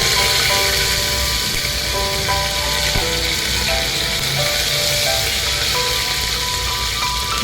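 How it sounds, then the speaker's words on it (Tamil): Steady, dense crackling sizzle of spices and curry leaves frying in hot oil, close and continuous with no talking. "இதெல்லாம் நல்லா பொரிஞ்சு வரட்டும்."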